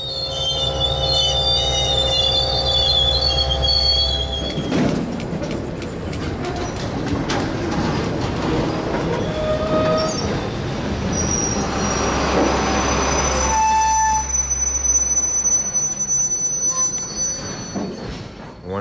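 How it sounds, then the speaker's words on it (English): An NX10 locomotive shoves railcars past a switch, giving a continuous loud rumble under sustained high-pitched wheel squeal, with low engine drone rising and falling. "the NX10 shoves past the switch to the cut point, then pulls back ahead of the switch to back one load into Lakeland"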